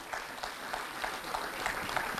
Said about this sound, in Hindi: बार ज़ोरदार तालियां हो जाए